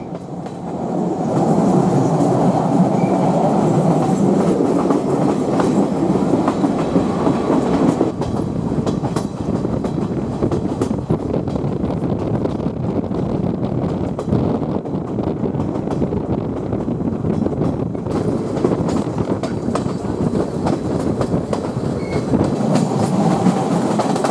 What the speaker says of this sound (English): I transferred to the night train to Batticaloa.